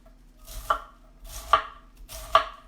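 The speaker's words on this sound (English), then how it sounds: "I'm going to cut lengthwise again, like that, and then small," A knife slices cabbage lengthwise on a cutting board for homemade sauerkraut, three separate crisp crunching cuts at a slow, even pace, close and clear with no talking.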